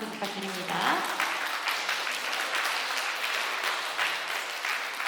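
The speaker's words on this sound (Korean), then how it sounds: "다시 한번 큰 박수 부탁드립니다" Audience applause at an outdoor riverside talk concert, a steady wash of clapping from a crowd lasting the whole stretch, with a voice over it at the start.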